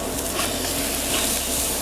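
A brisket sizzles and hisses on a hot Camp Chef Pro Lux grill as it is flipped during a hot-and-fast cook, giving a steady, close, crackling roar of fat and juices.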